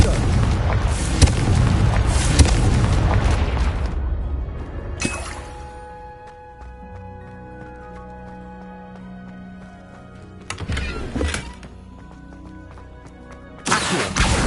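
Blasting-spell explosions in the Hogwarts Legacy video game, a loud crashing burst at the start, another sharp blast midway and a third at the end, with quieter magical tones and ambience between.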